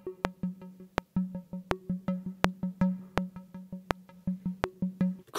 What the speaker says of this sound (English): use this beautiful synth pattern that GarageBand offers called percussive squares